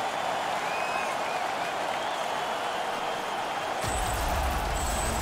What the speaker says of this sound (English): Paul Brezaventin really trying to just amp up this crowd